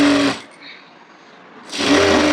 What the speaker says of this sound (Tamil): ஃபேப்ரிக்கில் மட்டும் நான் ஸ்டிச் பண்ணுறேன்.